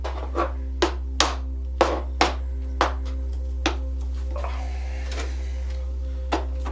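Sharp hammer blows knock a bolt out of a 2014 Rock Shox Argyle RCT suspension fork, about ten distinct metallic strikes at irregular intervals over a steady low hum, no talking.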